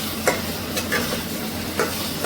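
Cauliflower and catla fish curry fries in oil in a pan, a steady sizzle broken by a few distinct scraping stirs of a spatula, close and without speech.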